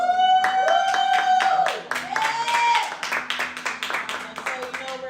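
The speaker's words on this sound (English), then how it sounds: "We've got another one good hand clap of praise." Sharp hand claps of praise at a church service ring out in a rapid, uneven burst while a voice whoops and sustained tones sound over them.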